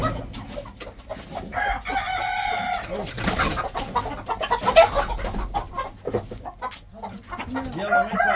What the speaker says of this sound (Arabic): هذني البولونيات ديك ودجاجه